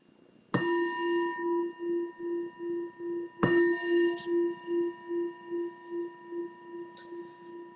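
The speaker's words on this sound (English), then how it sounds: "the bell invites you to bring your awareness back from wherever it was" A meditation bell is struck twice, each clear ring sustaining with a slow, pulsing shimmer that gradually fades, with a faint third tap near the end; no voices over it.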